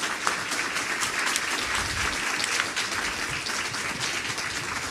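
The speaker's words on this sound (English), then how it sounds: "Please give the candidates a round of applause." Sustained applause from an audience at a church mayoral candidate forum, steady dense clapping filling the whole stretch at even loudness with no pauses.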